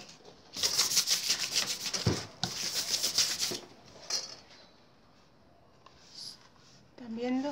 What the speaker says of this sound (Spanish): Vamos a cortar la mitad, la mitad, la mitad, la mitad.